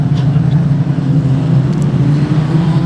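Production sedan race cars roar off the start at Kingaroy Speedway, a dense, steady engine drone from the pack, loud and close, with no talk over it.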